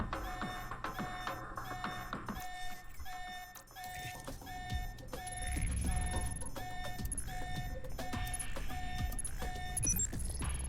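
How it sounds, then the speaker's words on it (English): Repeating electronic alarm tones in the video game Alpha Protocol, a rapid pattern of short beeps over game music and background noise, running throughout. "There's the alarm again"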